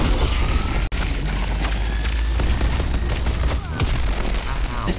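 Dense gunfire and explosive booms from the hero shooter video game Deadlock, a loud continuous barrage of rapid shots with no pauses, close and filling the whole stretch.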